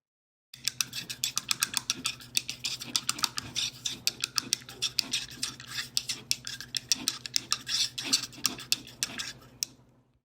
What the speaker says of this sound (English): The sound you just heard was me rinsing my paintbrush in a cup of water.